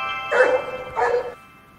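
Two barks from a stray dog, a short pair about half a second apart, fairly close, with no talking.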